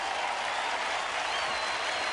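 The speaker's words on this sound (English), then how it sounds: "the crowd coming alive here at the Adelaide Oval" A cricket crowd at Adelaide Oval applauds during a 1984 World Series Cup match between Australia and Pakistan, sustained clapping from a large stadium audience that stays dense and even throughout.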